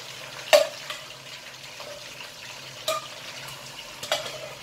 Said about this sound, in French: Avant de la mettre à bouillir, je la grille un peu dans l'huile.